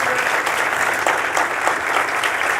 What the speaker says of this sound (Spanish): Un fuertísimo aplauso, por favor.